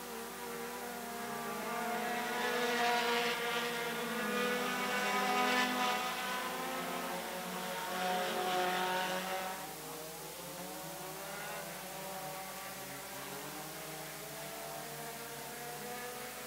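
Race cars lapping an oval track at over 73 mph average, engine roar rising loud as cars pass close by around the middle, then fading to a steady more distant drone, with no talk.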